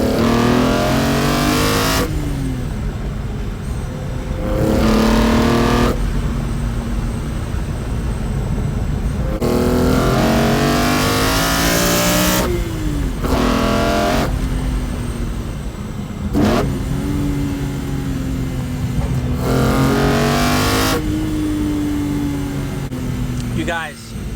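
A BMW E46 M3 with a CSL intake is driven hard on a mountain road, the engine repeatedly revving up through gears with rising whines, sharp shifts and brief lifts, loud and close, with occasional talk inside the car.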